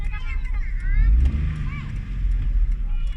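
A car's engine hums and rises in pitch as it accelerates during a driving lesson, a steady low rumble close by under an instructor's spoken directions.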